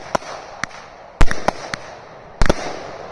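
Fireworks set off by a P12 pyrotechnic firing system give several sharp, separate cracks and pops at irregular intervals, with two stronger blasts in the middle. A faint background hiss runs between them.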